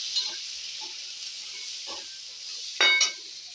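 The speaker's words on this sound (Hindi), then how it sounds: "इसे मिक्स कर लेंगे।" Turmeric and chopped green chilli are stirred together for a matar litti filling: a steady, soft hiss with faint scraping strokes, and one brief louder scrape near the end, close by with no talk.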